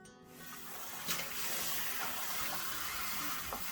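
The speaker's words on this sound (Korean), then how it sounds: "시금치는 찬물에 잘 씻어야 됩니다." Cold tap water runs steadily over spinach being washed in a sink, a continuous close splashing gush with a few soft knocks.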